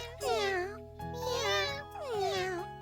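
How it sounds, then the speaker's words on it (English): Three kittens in an animated cartoon meow in turn, each cry rising then falling, clear and close over a faint steady background hum. "Maybe I better just take these mischievous little kittens back home where they belong."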